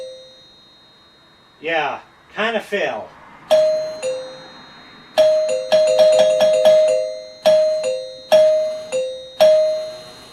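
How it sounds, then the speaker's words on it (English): A regular household doorbell chimes repeatedly, a spoken comment first, then a series of ding-dong tones struck in quick irregular bursts, each ringing and decaying, close and clear. "now if I ring the doorbell"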